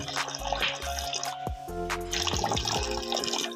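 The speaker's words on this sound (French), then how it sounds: "nous allons ajouter un peu d'eau chaude" Hot water is poured into a cooking pot for a fish and okra stew, a close splashing gurgle with shifting pitch and a few interruptions over a few seconds.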